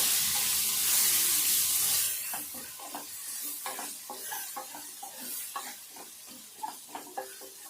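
Egg curry is stirred in a frying pan: a broad hiss fills the first two seconds, then a string of soft scraping, clinking stirs follows over a quiet simmer, close up, with no voices.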